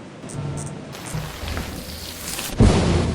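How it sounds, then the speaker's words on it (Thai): In the video game Lethal Company, a lightning strike cracks and thunder booms suddenly amid a steady wash of rain, loud and close, rumbling on afterward. "ฟ้าผ่ากุญแจนะระวัง"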